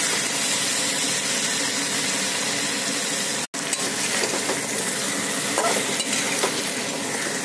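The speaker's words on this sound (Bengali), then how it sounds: "চিকেন কষা, ইয়াম্মি ইয়াম্মি চিকেন কষা।" Champaran chicken being stir-fried in a pan, a steady sizzle with scraping stirs, a brief break midway, then more frying and clinks of the spatula, no talk.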